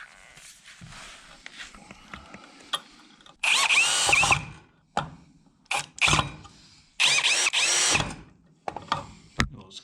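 A power drill drives a screw into a wooden wheel hub for a folding railcart: several loud whirring bursts of a second or so, separated by short pauses with clicks and handling noises, close up.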